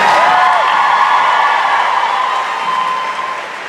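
Audience applause filling a room, a loud dense wash of clapping with some cheering that holds steady and then slowly fades a little.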